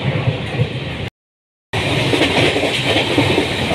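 Janshatabdi Express running fast, heard from inside an air-conditioned coach: a steady, loud rumble and hiss of wheels on track with faint rhythmic clatter, briefly cut to silence partway through before the din resumes.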